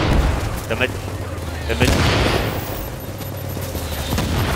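Rapid gunfire bursts in a video game, loud and close, with sharp reports and a brief rolling boom, under someone talking over the shooting.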